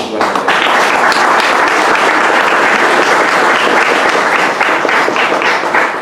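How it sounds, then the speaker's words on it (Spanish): Sustained applause from an audience at a history lecture at a provincial archive in Tucumán, dense and steady throughout, loud and close, with no speech over it. "Felicitaciones y un aplauso para ustedes."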